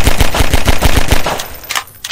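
Rapid automatic gunfire in Garry's Mod, a loud, evenly spaced burst of about eight sharp shots followed by a few scattered clicks and thuds.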